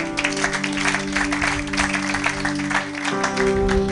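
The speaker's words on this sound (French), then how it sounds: "Acclamons pour la gloire de notre Dieu." A church congregation applauds steadily during a sermon, with rapid clapping spread across the room over a sustained tonal hum.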